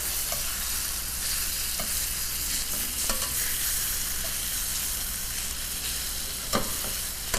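Browning chicken pieces flipped over in a pan for chicken Marsala, a constant close sizzle broken by a few sharp utensil clacks and scrapes, with no one speaking.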